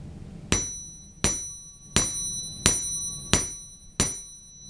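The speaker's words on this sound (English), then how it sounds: "I'm going to take my jeweler's hammer" Six sharp metallic taps from a small jeweler's hammer on copper, evenly spaced about once every two thirds of a second, each ringing briefly with a bright tone.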